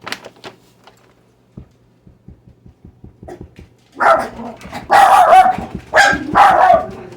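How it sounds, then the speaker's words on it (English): Light taps on glass jars in a home kitchen ring out sparsely, then pet dogs break into loud, close barking in several rapid bursts that drown out the tapping. "my dogs think somebody's at the door because I'm tapping my jars"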